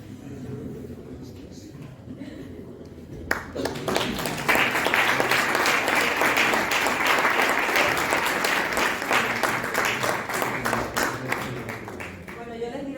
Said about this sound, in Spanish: el aplauso es para ellos